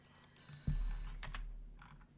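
A few quick, soft keyboard taps from typing in The Sims 2, heard close and quiet over a low steady hum.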